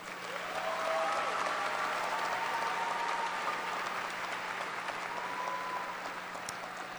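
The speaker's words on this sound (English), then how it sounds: "Please give these students one more round of applause." A graduation crowd at Topeka High School gives the graduating students another round of applause, a broad, sustained clatter of many hands that swells early and then holds steady, heard from some distance.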